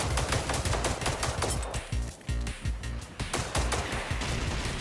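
Rapid, sustained gunfire in a video game aimed at a harvester, loud close shots in fast rhythmic bursts with a brief lull midway before the firing resumes.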